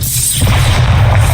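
A Bombarda blasting spell cast in Hogwarts Legacy lands as a loud, deep boom with a rushing whoosh that swells and then rumbles on for about a second, with no talk over it.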